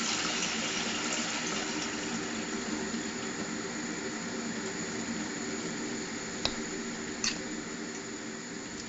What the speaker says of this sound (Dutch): Zou je hier alvast wel water in willen doen?